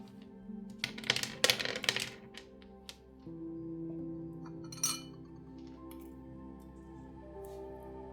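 Small charms and dice clatter and clink together in a quick cluster of bright, close taps, then a softer single rattle follows over a steady low hum.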